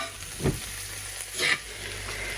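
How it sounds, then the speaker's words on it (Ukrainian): Young potatoes being stirred with butter in a pan give a steady low sizzle with two brief scraping stirs, close and fairly quiet, no voices. "Після чого закладаю все масло вершкове. Добре перемішуємо."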